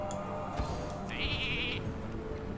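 A sheep bleats from a polymorphed minion in the Hearthstone card game, one short wavering bleat sounding fairly quietly over steady background game music and ambience.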